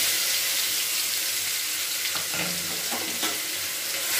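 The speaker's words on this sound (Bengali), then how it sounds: "এবার রসুন, পেঁয়াজ, কাঁচা লঙ্কার পেস্ট এতে দিয়ে দিলাম।" Garlic, onion and green chilli paste hits hot oil already seasoned with nigella seeds, giving a steady broad sizzle with a few scraping stirs near the end, close and continuous with no voices.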